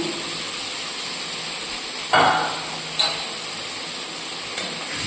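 Ginger-garlic paste frying in a pan for a vegetarian soybean and potato curry, a steady broadband sizzle with a few sharp bursts as the paste hits or is stirred, close and fairly loud.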